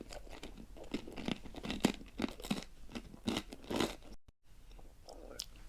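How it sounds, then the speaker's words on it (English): Crispy bread spread with salted butter being bitten and chewed close to the ear, a run of loud crunches and crackles in an uneven rhythm, broken by a brief gap near the end. "Took me a little while to chew through that because it's very crispy bread."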